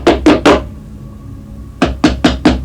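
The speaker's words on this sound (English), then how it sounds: "there's a huge fucking bang on the door." Heavy, loud knocks on a door: three quick bangs, a short pause, then four more in a fast rhythm, close and forceful.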